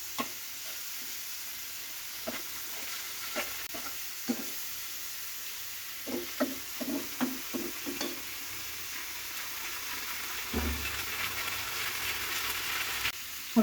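Spice paste with garlic paste, fried for a dried Bombay duck (loitta shutki) curry, sizzles quietly in a pan as tomatoes go in, with scattered stirring scrapes and taps over a soft, steady hiss.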